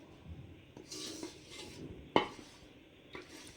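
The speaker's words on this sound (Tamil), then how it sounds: "நம்ம கட்டிப்படாமல் நம்ம கிண்டிக்கிட்டே இருக்கணும்." A spoon stirring milk sauce for white pasta in a pan, with soft scraping and clinking against the metal, quiet and close, and one sharper knock partway through.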